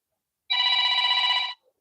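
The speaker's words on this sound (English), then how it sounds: "somebody's phoning me" A telephone rings once nearby while someone draws in charcoal. It is a single clear electronic trill lasting about a second, with silence before and after.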